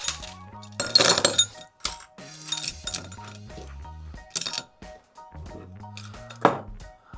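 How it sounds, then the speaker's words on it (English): Small metal and glass items clink as they are dropped back into a pot in a quilting studio, a series of bright, close chinks and rattles with brief pauses between them. "and then I can put all the things back in the pot"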